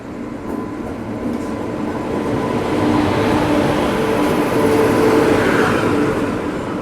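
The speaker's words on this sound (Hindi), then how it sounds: "देखिए अजंता एक्सप्रेस आ चुकी है और मोस्टली मुझे लगता है WAG7 इसका पावर होना चाहिए।" Ajanta Express drawing in behind an electric WAG7 locomotive, a loud, steady rolling rumble of wheels and wagons that builds slightly and holds throughout, with no voices.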